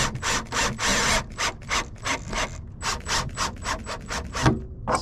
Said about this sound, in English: Now we put our screws in and hope the wood doesn't split.